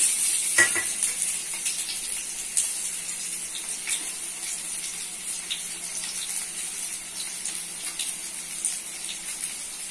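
Potatoes frying in soybean oil in a pan, a steady, soft sizzle running throughout with a brief splashy crackle near the start, no voices.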